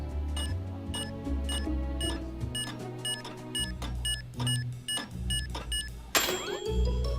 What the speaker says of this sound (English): the thing that beeps like a bomb was made by Stark